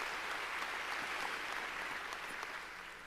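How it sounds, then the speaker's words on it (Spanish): A church congregation claps loudly and steadily for about three seconds, a dense continuous wash of applause that tapers slightly at the end. "Ahora démosle palmas fuertes al Señor."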